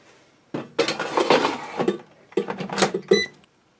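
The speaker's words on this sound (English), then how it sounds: "I'm going to load this into the air fryer" A beef roast being loaded into a Cooks Essential air fryer: two close bursts of clattering and clinking metal, like a basket and rack being handled, with a short quiet gap between them.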